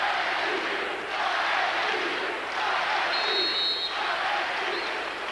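A college basketball arena crowd on its feet in the closing seconds of a tied Evansville vs Illinois State overtime game, a sustained loud roar of cheering and yelling that swells and dips.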